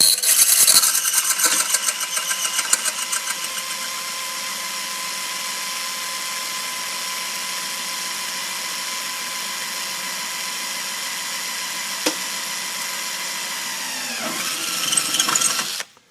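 A drill runs steadily at a constant whine for about fourteen seconds while drilling a pilot hole for a Polaris ProTector install, then winds down with a brief rev near the end.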